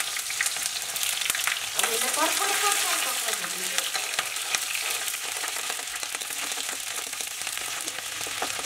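Fenugreek, bay leaf and onion fry in hot oil with a loud, constant close-up sizzle and crackle, stirred now and then, while a voice speaks briefly over it.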